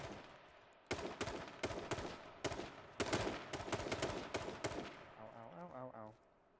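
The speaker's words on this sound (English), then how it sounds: "Shooting at me." Bursts of gunfire in the online shooter H1Z1 crack out in rapid irregular volleys, several close, loud shots over a few seconds before the fire trails off.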